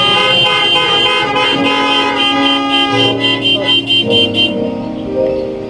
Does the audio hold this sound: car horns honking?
yes